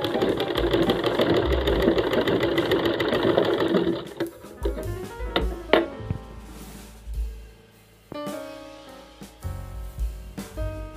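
Sewing machine stitching a fabric sleeve: a steady, dense mechanical whir for about four seconds, then stops, fabric handling and brief restarts of short stitching bursts, close up, with no talking.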